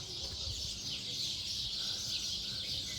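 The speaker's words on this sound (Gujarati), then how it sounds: "અહીંયા ચકલા બોલે છે" Sparrows chirp in the open air on a hill near the Khodiyar temple and its pond, a steady wash of high twittering that runs throughout at moderate distance, with low rumble beneath and no talk.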